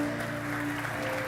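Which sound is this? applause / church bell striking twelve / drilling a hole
applause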